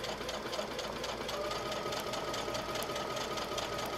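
A sewing machine runs steadily while stitching a curved quarter-inch seam on a fabric balloon ball, a fast even mechanical whir heard close and fairly quiet.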